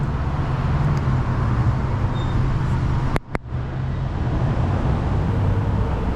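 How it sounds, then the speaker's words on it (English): Street traffic in downtown Vancouver: a steady, loud rumble of passing vehicles fills the scene without pause, broken once by a brief dropout with a couple of sharp clicks before the road noise resumes. "now we got traffic here"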